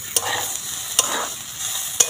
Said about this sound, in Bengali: ঢাকনা দিয়ে ঢাকা দিয়ে দিচ্ছি একটু। ঢাকনাটা সরিয়ে দিলাম।